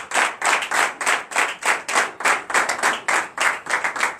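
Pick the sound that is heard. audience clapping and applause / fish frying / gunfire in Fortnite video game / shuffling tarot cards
audience clapping and applause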